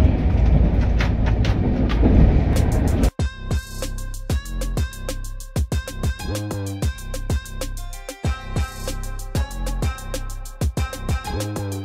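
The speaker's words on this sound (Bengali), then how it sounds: "ট্রেন তো হেভি যাচ্ছেই" Duronto Express 12246 from SMVT to Howrah running past Chilka: a loud, steady rumble gives way to a rapid, rhythmic clickety-clack of wheels over rail joints, heard from on board and without speech.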